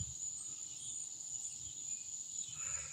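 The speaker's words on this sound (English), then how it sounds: "But them cicadas." Cicadas buzzing outdoors, a faint, continuous high-pitched drone holding steady throughout, distant and soft with a low background rumble beneath.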